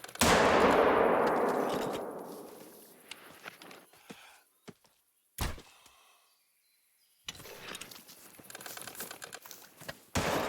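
Hunting shots in theHunter: Call of the Wild, 7mm rifle bullets and arrows loosed at a charging animal: a loud burst opening with a long ringing decay, a sharp crack midway, then rustling movement and further impacts.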